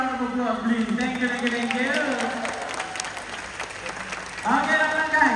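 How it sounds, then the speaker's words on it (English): Audience at a zoo splash safari show claps, a dense patter of applause running beneath an amplified host talking, with the clapping swelling again toward the end. "And a big round of applause, please."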